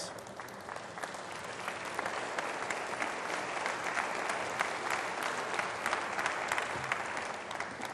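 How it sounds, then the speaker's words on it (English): A university audience at a state-of-the-university address gives a long, even round of applause, dense and sustained from start to finish without letting up. "give all of those folk a round of applause"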